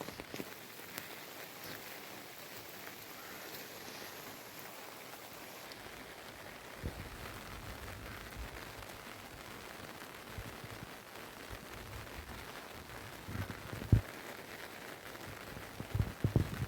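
Light rain falls outdoors in Kashmir during the rainy season near apple trees, a soft steady patter and hiss throughout, with a few sharper drips or taps toward the end and no talk.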